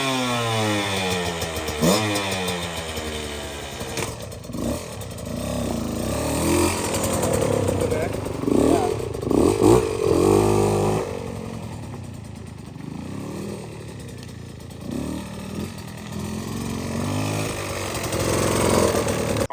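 A 2023 Beta 125 Race Edition two-stroke dirt bike with a repaired clutch runs in gear, its engine buzzing and revving unevenly up close, with people talking.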